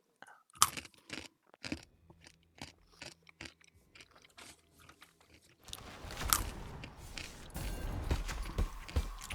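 Someone chews food while playing a video game: close, crunchy bites and mastication in an irregular rhythm, later partly buried under denser, louder background game noise.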